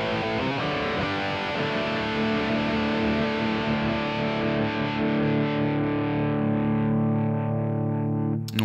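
A distorted electric guitar played through a Kemper profiling amp with delay and reverb rings out in thick sustained chords, the tone trailing off into a long echoing decay; no voices, just the amplified guitar throughout.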